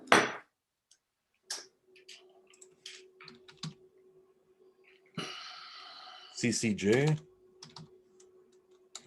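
Sparse clicks of keyboard keys being tapped, with a brief burst of typing and a short spoken remark.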